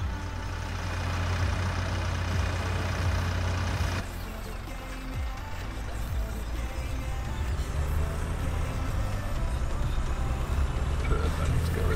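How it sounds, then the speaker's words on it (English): McCormick tractor engine in the Farming Simulator 17 video game, a loud, steady low diesel drone that shifts slightly in tone partway through and runs continuously. "This McCormick has good sound to it as well. Just general engine sounds"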